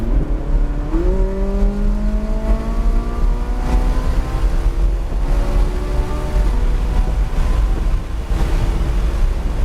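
A Ferrari accelerating hard on the Palm Beach International Raceway track, engine note climbing steadily through the gears in rising sweeps beneath constant loud road and wind roar, heard from inside the car.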